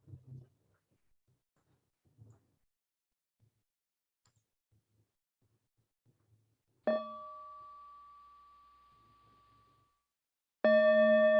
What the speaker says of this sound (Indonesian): Jadi saya akan bunyikan bel.